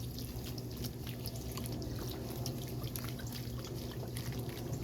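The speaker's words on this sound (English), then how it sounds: "But I'm going to water it in." Water is poured onto cucumber plants in a fall garden, a steady close splashing and dripping that runs continuously.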